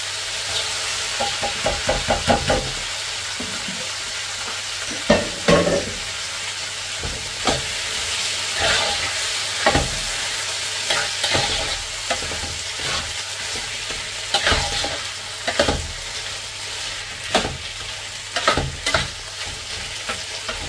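Mung beans stirred and fried in a pan, with a continuous sizzle and repeated scraping strokes of the spoon at an irregular rhythm, close up and without talk.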